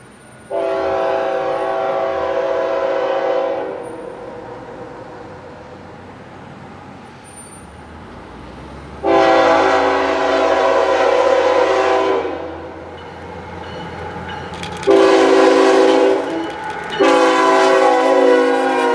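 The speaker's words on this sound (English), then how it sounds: "M567 with empty autoracks heading back for the Detroit area with a ET44 leader" A CSX diesel locomotive with an ET44 leader sounds its horn in several long blasts while the rumbling freight train of empty autoracks rolls past steadily in the background.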